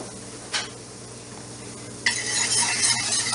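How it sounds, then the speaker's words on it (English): A whisk stirs seasoned flour into oil in a pan to start a roux for old-style Maryland fried chicken, a single clink and then a steady scraping, swishing texture close by. "You want to whisk that around to make a roux."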